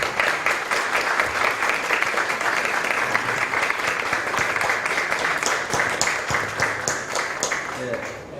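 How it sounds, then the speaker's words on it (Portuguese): A lecture audience at a cultural policy course gives a loud, sustained round of applause for a professor, dense clapping from many hands that holds steady throughout with some voices mixed underneath. "a melhor forma da gente fazer isso é uma salva de palmas para ele"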